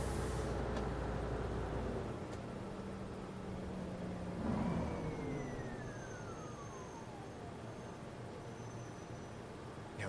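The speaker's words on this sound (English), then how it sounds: "This 202 series bus has a deeper, bassy sound to it." A 202 series city bus in OMSI 2, driving in Berlin, has a deep, bassy engine that drones steadily and faintly, with a gliding whine partway through.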